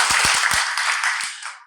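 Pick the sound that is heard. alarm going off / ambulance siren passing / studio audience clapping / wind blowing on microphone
studio audience clapping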